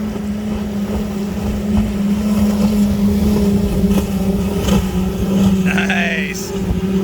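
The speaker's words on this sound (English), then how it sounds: "Oh, we got a boat coming." A speedboat driven by five outboard engines passes close on the water off Miami, its steady, loud motor roar building and fading over about seven seconds beneath a voice.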